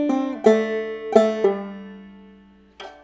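A banjo plucks a measure of the fiddle tune "Hog Eyed Man" in crisp twangy notes, a few quick pairs followed by a ringing decay. A final single pluck comes after a short gap, and there is no talking.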